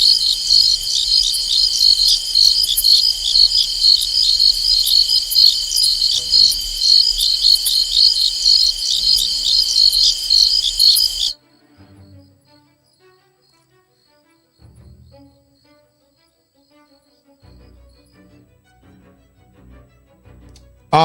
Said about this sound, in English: only thing you hear is crickets.